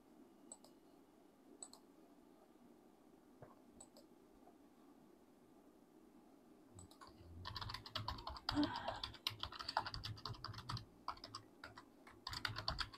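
Someone types a password on a computer keyboard. A few faint isolated clicks give way to a steady run of close, rapid key taps in the second half.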